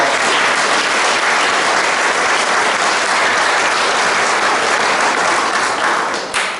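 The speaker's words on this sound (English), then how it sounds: "So let's give everyone a big round of applause." Sustained applause from an audience of golf staff and guests at a junior golf cup opening ceremony, loud and steady throughout, tapering slightly at the end.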